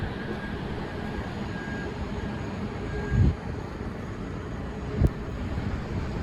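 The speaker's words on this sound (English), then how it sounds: "I headed over to the yellow parking lot near Terminal 5 to do some plane spotting" Jet aircraft at JFK airport, heard from a parking lot near Terminal 5, make a steady, distant broadband rumble that runs throughout, with two brief low thumps partway through and no talking.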